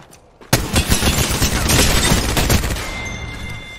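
A rapid burst of hipfire erupts in an online battle royale shooter match, a loud dense fusillade of gunshots that begins suddenly and rattles on for about three seconds before trailing off.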